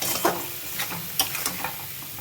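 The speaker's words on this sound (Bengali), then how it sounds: "এটা ভালো করে কষাতে হবে" A vegetarian curry being sautéed in a pan: a low sizzle broken by a few sharp scrapes and taps of a spatula stirring, close and fairly quiet.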